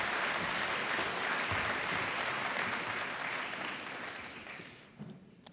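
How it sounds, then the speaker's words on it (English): Applause from a school graduation ceremony audience for an award winner: dense, steady clapping from a full room that holds for several seconds, then thins out and fades toward the end. "Huge round of applause for Kaylee again,"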